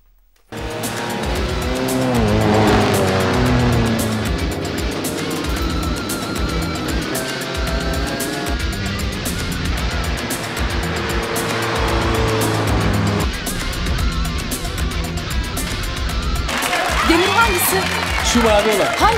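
Racing cars at a race track, engines roaring and revving with tire squeals, loud and sustained, while people talk over them.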